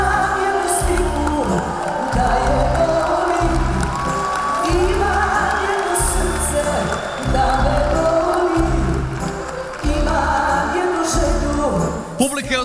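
A live crowd at a folk-music concert cheers, whoops and applauds for the singer, a dense, loud roar of clapping and voices sustained throughout over pulsing music.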